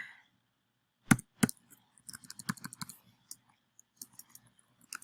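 Irregular bursts of computer keyboard clicking as a faulty keyboard acts up on its own, a couple of sharp clacks followed by scattered quicker taps and a few sparse clicks, close and fairly quiet, with no talking.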